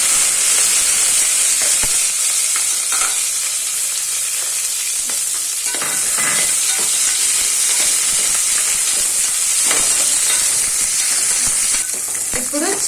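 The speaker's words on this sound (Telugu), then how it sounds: "వేగిన తర్వాత మీరు పక్కన పెట్టుకున్న ఆనియన్స్ వేసుకోండి" Onions sizzle steadily in hot oil for a mushroom biryani, a loud, close, continuous frying hiss with faint stirring and no talking.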